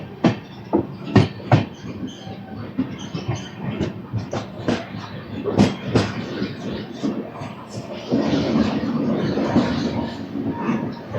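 Venkatadri Superfast Express train pulling out of Muddanur station, with sharp clacks and knocks of wheels over rail joints that give way to a steadier rolling rumble as it gathers speed, heard from on board.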